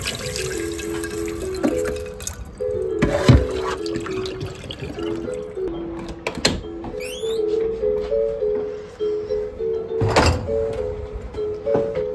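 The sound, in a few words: rinsing dishes with water before the dishwasher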